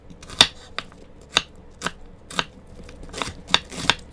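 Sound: knife slicing onion into strips

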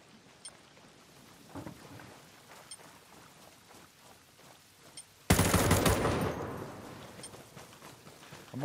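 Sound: gunfire from a video game

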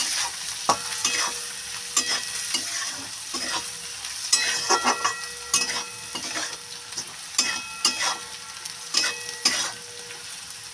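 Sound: stirring turmeric into frying food

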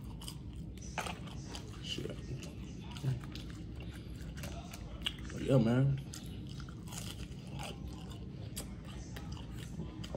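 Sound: biting and chewing crunchy Wendy's food

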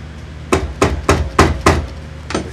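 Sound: hammer pounding leather jacket seam allowance to soften it

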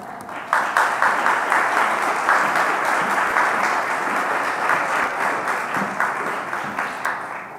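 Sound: audience applause welcoming a speaker

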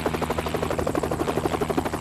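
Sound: rescue helicopter engine in video game Rettungshubschrauber 2013

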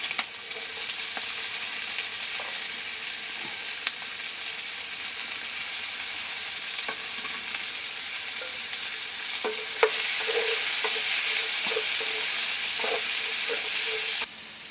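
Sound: onions sautéing in oil used for frying fish

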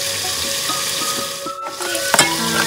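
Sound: sesame seeds sizzling in mustard oil

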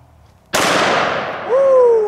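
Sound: 500 Smith & Wesson Magnum revolver shot, 500 grain hard cast

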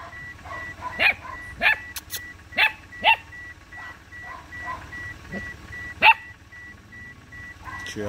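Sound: puppy barking

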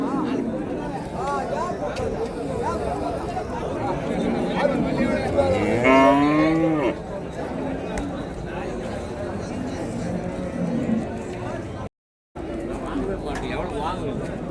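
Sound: cattle at a livestock market

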